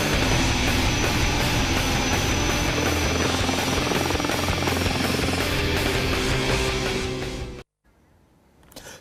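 An Indian military attack helicopter, the Hindustan Aeronautics Limited Rudra, flies close by with a loud, steady rotor thump and turbine whine that cuts off abruptly near the end, leaving faint background noise.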